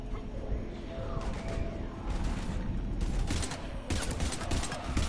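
Gunfire in Mass Effect 3 during a fight against husks while heading for the Normandy, several bursts of shots under a continuous loud battle din, with the heaviest volleys in the final second.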